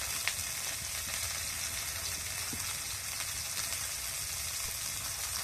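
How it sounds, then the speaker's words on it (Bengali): Mango pieces with turmeric and salt fry in a pan for a sour mango and snakehead fish curry, giving a steady, even sizzle with soft stirring scrapes throughout, moderately close and without voices. "আম দেওয়ার পর ভালো করে কষে নিয়েছি।"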